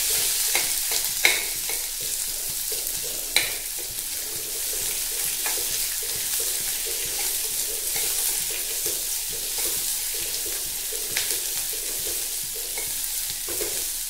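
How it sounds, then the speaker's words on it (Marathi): Chopped onion sizzles steadily in a hot pan while a spoon stirs it, scraping and tapping now and then, close and continuous with no talk. "कांदा मी मिक्स करून घेते"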